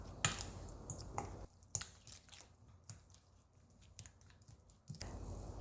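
Chopped kimchi tossed with spicy red pepper noodle sauce, sesame oil and sesame seeds in a bowl, giving soft wet squishing and sticky smacking sounds in uneven bursts, close and fairly quiet.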